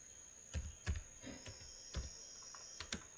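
Faint keystrokes on a computer keyboard while C++ code is typed, coming as a handful of separate, unevenly spaced clicks over a steady high background hum.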